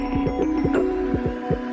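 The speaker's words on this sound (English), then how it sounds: "a specially designed device called a propeller carving machine" A propeller carving machine shapes wood for a wind generator propeller with a low steady hum and rhythmic throbbing pulses repeating roughly every quarter second, close and fairly quiet.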